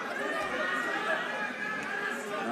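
Crowd at a JCK Fight Night 104 Town Boxing bout rallying behind their countryman, a steady roar of chatter and shouting that holds level throughout without a break.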